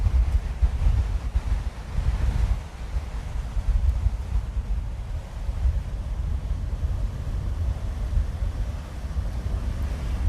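Waves breaking on a low-tide beach covered in sargassum and coral at Cattlewash, a continuous low rushing roar mixed with heavy wind buffeting the microphone, loud and steady throughout.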